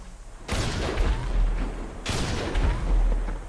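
Heavy gunfire in GTA V lands as two big, booming blasts with rumbling tails. Each one starts sharply and rolls out over more than a second, loud and close, with no voices over them.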